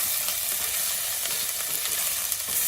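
Crushed ginger and garlic with dried shrimp sizzle steadily in a pan while being stirred, a dense, even frying hiss running throughout with faint scrapes of the spoon.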